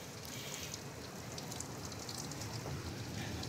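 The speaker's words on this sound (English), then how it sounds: "As you can see, it is raining really hard right now" Heavy storm rain pours down in a steady, dense hiss, heard from indoors near a window, unbroken and fairly loud throughout.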